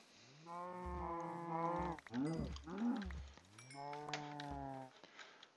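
Cows moo in a Minecraft world running the Tekkit modpack, several long drawn-out moos close by, one after another with short gaps.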